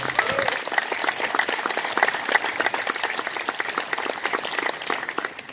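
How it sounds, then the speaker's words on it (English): Crowd applause at an outdoor dedication ceremony for a renovated veterans memorial in Putnam County, Tennessee, a sustained burst of many people clapping with sharp individual claps standing out, fairly close, with faint voices underneath. "Can we give all those folks a round of applause?"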